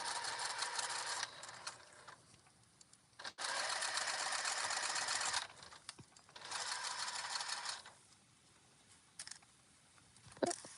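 A sewing machine runs stitching around the top of a reversible gingham jumper, loud bursts of rapid needle clatter broken by short pauses and quieter stretches.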